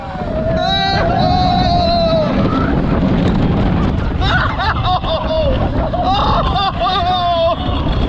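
Riders on the El Condor roller coaster at Walibi Holland scream and shout over loud, rushing wind and rattling track noise throughout the ride.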